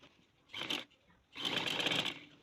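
Sewing machine stitching a collar strip on a kurti, heard in two close bursts of fast whirring, a short run followed by a longer steady one.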